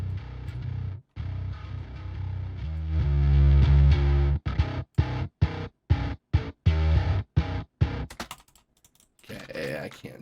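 Heavy distorted electric guitar through a cabinet impulse response, playing thick chugging chords and short choppy stabs with abrupt silences between, then some clicking at the end.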